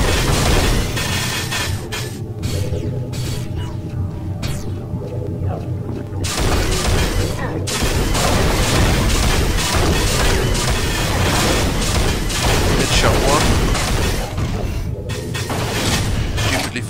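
Weapons fire loudly in the shooter game Unreal, a dense run of booming blasts and crashing impacts over rumbling ambience, with brief quieter gaps between volleys.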